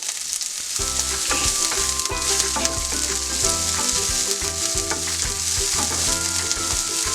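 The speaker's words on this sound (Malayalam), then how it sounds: "അതിലേക്ക് ഞാൻ ഇനി ഇടുന്നത് സ്പ്രിംഗ് ഒനിയൻ്റെ വൈറ്റ് പാർട്ടാണ് ഞാൻ ഇതിലേക്ക് ഇടുന്നു" Spring onion whites hit hot oil with browned chopped garlic, giving a loud, steady, close sizzle with scraping stirs and clinks running throughout.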